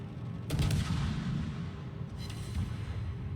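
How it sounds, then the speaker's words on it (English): Naval guns boom in World of Warships, a Shimakaze destroyer battle: a heavy salvo lands at once, then a rumbling barrage rolls on, with a second sharper volley near the end, loud and continuous with no talk. "Just keep shooting."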